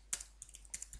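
Typing on a computer keyboard while entering a web address: a short run of light, close keystrokes in two quick clusters, crisp clicks in a quiet room with no talking.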